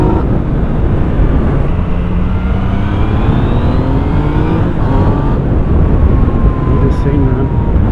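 Yamaha MT-09 or Kawasaki Z900 motorcycle on a test ride, its engine pulling under throttle with rising and falling rev sweeps over heavy close wind roar, loud and continuous.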